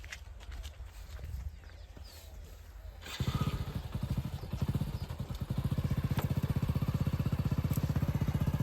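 A motorcycle engine idles close by, settling into a steady, rapid putter after about three seconds. A softer mechanical rumble precedes it.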